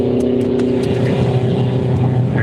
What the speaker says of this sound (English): There goes a GT86.